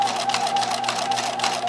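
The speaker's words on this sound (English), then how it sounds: "this is going to go a little faster because we're just doing a straight stitch now." Bernina 1008 sewing machine running a straight stitch at steady speed, a close, continuous rapid mechanical whir with fast even needle pulses and no talking.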